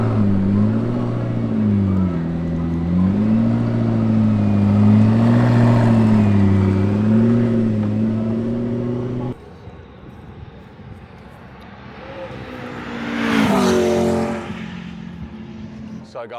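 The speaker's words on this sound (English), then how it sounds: "They got the Valkyrie started, and it's down here in the pit lane, about to start doing some hot laps" Aston Martin Valkyrie race car idling in the pit lane at Sydney Motorsport Park, a loud, steady, wavering engine drone that cuts off, then a brief rising whoosh while someone talks.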